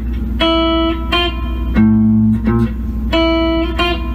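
Guitar notes on a warm-up exercise, each cut short as the fretting fingers lift too early. Several clear, sustained tones sound close and alone, each one stopping abruptly.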